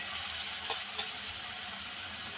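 Garlic frying in a pan as turmeric goes in, a constant bright sizzle with a few small pops and stirring clicks, close and moderately quiet, no talking.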